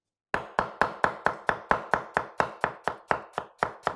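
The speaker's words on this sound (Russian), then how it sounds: "Сейчас вот мы начинаем резать лук для жарки курицы" A knife chops onion on a board for frying chicken in Azerbaijani plov: about fourteen crisp, evenly spaced strokes in a quick steady rhythm, close and alone.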